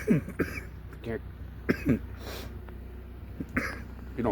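Short, sharp coughs and throat-clearing bursts come in a scattered series close to the microphone, with talking in between.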